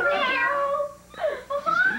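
A voice imitates a cat, giving a drawn-out meow followed by two shorter ones, close and clear.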